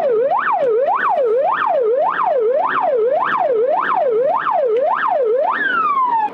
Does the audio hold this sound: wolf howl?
no